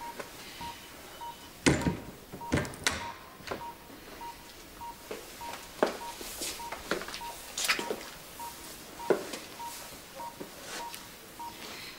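Telephone dialling tones sound repeatedly in a quiet room, a series of short evenly spaced beeps mixed with several sharp clicks and knocks, with no talking.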